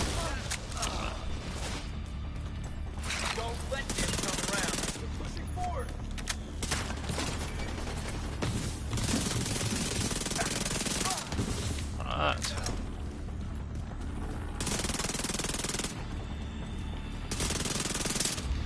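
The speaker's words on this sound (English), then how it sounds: "So I think for this particular SMG, it's one of the highest firing rate. It's 1200 RPM" Sustained SMG fire in The Division 2, dense rapid bursts from a high-rate 1200 RPM weapon overlapping with other gunfire and someone talking, loud and nearly unbroken for the whole stretch.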